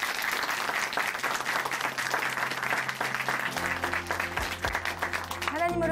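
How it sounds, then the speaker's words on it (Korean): A church congregation applauds after a testimony program, loud sustained clapping that fills the room, then gives way to swelling music with a voice entering near the end. "우리 다시 한번 박수 보내드리겠습니다"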